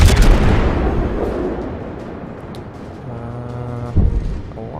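Naval cruiser main guns firing shells in World of Warships, the Myoko: a loud opening boom with a long rumbling tail, then a second, fainter blast near the end, with no talk.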